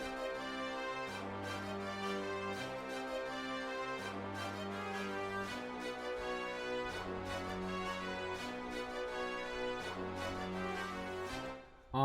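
Chicago drill beat in the glo style, with steady deep bass notes under layered melodic synths and an occasional orchestral brass hit standing out, playing quietly with no voices.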